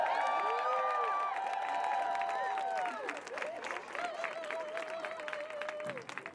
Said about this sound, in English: Can we give Chief Turtle a round warm of applause?